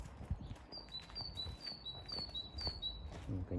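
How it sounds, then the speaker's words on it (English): Small birds sing outdoors along a walking route, a run of repeated high chirps spread through the clip, faint and somewhat distant over low rumbling background noise. "You can hear the birds singing."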